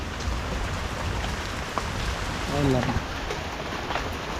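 Steady rain falling, a constant hiss of drops on surfaces throughout, with a brief murmur of voices partway through.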